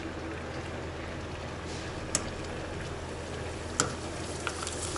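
Colored crisps fry in hard-boiling oil, a steady close sizzle and bubbling with a couple of sharp crackles and pops.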